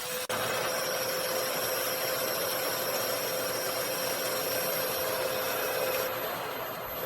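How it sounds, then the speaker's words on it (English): A household vacuum cleaner runs at a steady loud whine and rush from start to finish, powered from a portable power station, with no talking. "let's demonstrate with a vacuum cleaner. It's not the most beautiful vacuum in the world, and of course, it will make some noise when I turn it on"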